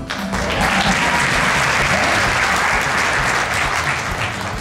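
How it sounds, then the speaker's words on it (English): A theater audience at a whip-cracking performance bursts into loud, sustained applause, dense clapping that swells quickly and holds steady for several seconds before easing slightly. "So I need to know, by a round of applause, should I go with these out of my own hands this time?"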